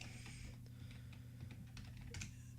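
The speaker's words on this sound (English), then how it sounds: "You would type in nexusmods.com" Steady, close typing on a computer keyboard, with quick light keystrokes in an even run against a constant low hum and no talking.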